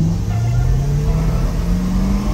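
Car engines, including a Corvette, revving loud and close before a rolling race, a steady rising drone holding throughout with no talk.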